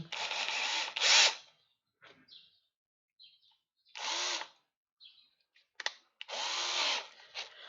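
A power drill whirs in several short bursts into an M3 Predator prop, stopping and restarting, with quiet gaps between; close and fairly loud.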